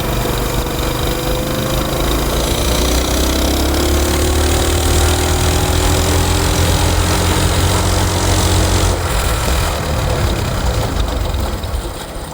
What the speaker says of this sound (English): I never thought mini bikes would be so fun